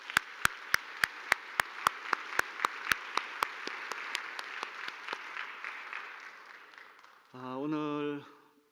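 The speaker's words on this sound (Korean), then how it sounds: "우리 6분 한 박수 한번 칠까요?" A church congregation at a Christmas Day Sunday service applauds six choir members: sharp, evenly spaced claps in unison settle into broad, steady applause, and a single voice speaks briefly as it ends.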